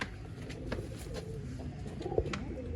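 Old line pigeons kept for sale in Bangalore coo softly at close range, a few low, throaty rolling calls overlapping in a quiet room.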